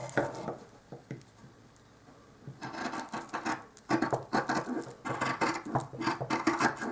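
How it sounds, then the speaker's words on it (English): Scissors cutting small pieces of fabric for doll clothes, quiet at first and then a close run of rapid snipping and rustling strokes. "Now I'm just working with these 2 small pieces. I'm going to cut it this way."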